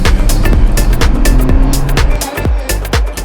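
Ferrari Purosangue, a 715-horsepower rear-biased SUV, accelerating hard with its aids off: a loud, sustained engine roar punctuated by repeated sharp shift blips and surging pulls, close and alone without talk.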